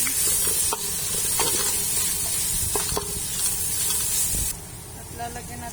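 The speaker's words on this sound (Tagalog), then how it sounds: "Haluin lang ulit natin." Carrots and tomato paste get stirred in a sizzling pan for bukhari rice, with steady frying hiss and scraping strokes of a utensil, then the sizzle drops quieter near the end.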